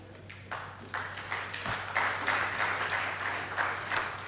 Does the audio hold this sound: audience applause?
yes